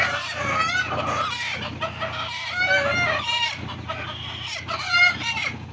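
Domestic desi hens in a small backyard coop cluck repeatedly at close range, their rising and falling calls overlapping in an uneven, continuous stream.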